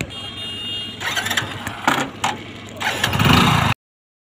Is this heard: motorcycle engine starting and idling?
yes